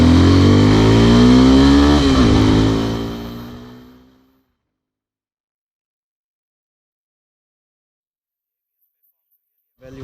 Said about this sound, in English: now we'll be doing the acceleration test for this bike